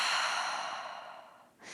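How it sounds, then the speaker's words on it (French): A long, soft exhale through the mouth during a yoga breathing exercise, starting strong and fading gradually, with a brief new breath starting at the end; no talking. "Et par la bouche, expire."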